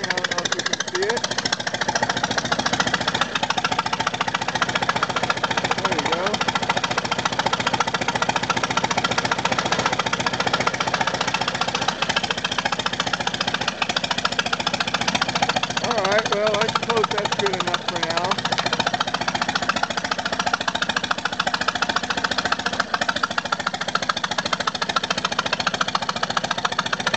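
A 1926 Ford Model T engine idles steadily for the whole stretch with its timing set slightly retarded and a chain-drive distributor turning, giving a constant loud mechanical clatter with a knocking, jackhammer-like rhythm.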